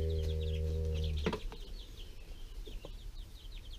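Backyard chickens, including buff Orpingtons, cluck in short scattered calls, while a steady tonal hum ends abruptly near the start with a clunk, after which only soft clucks and faint noises remain at moderate distance.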